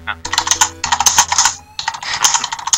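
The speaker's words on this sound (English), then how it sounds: "Robert, can you please mute your typing?" Rapid typing on a computer keyboard: close, crisp clatter of keys in two dense bursts separated by a short pause.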